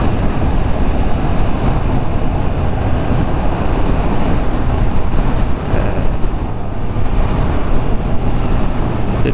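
A 2015 Yamaha FZ-07 motorcycle engine drones on the road during riding, with heavy wind rush and a constant roar. Loudness dips and recovers briefly as gears are shifted.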